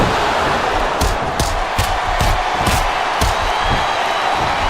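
An arena crowd roars steadily in the WWE SmackDown vs Raw 2007 video game, a dense continuous wash of cheering punctuated by several sharp slams from the ring action.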